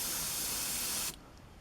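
An airbrush fires a quick test burst of paint against the side of a spray booth, a loud steady hiss that cuts off abruptly after about a second, leaving quiet room noise.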